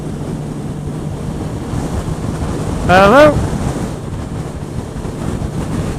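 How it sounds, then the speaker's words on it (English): Wind buffets a motorcycle rider's microphone in a windy field, a constant loud roar of rumble and hiss throughout, with a brief rising whine from the Yamaha XJ6F engine midway and a short spoken word. "I'm right in a bit of a windy field."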